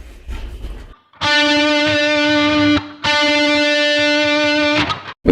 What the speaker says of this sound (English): picking a string would sound like this.